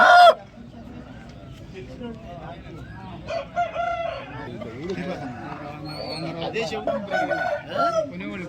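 Chickens cluck and a rooster crows amid a busy crowd at a Sunday country chicken market in Vijayawada, with people talking and chattering nearby throughout.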